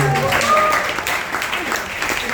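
Brief, moderately loud clapping from a seminar audience at a coaching event, lasting a couple of seconds and fading slightly toward the end, with a few faint voices mixed in.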